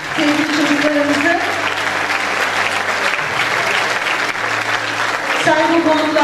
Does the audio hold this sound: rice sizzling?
no